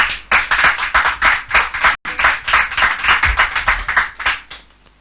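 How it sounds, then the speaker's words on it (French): An audience claps at a French-language game show, the applause dense and rhythmic, loud and close for about five seconds with one brief gap before fading out. "Mais sous vos applaudissements."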